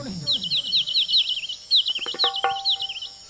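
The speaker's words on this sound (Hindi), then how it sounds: "चिड़िया चहकने की आवाज सुनाई दे रही है" Birds chirp in the morning in a quick series of high, repeated tweets, fairly close, over a soft background with some clicking and rustling and no talk.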